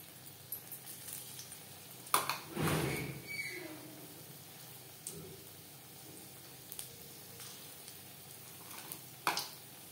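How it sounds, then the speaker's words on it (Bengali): Pakoras frying in refined oil over medium flame, a soft low sizzle with a louder burst of bubbling as batter drops in, plus scattered faint clinks. "পাকোড়া ভাজবার জন্য বেশ খানিকটা রিফাইন্ড অয়েল গরম করে নিয়েছি।"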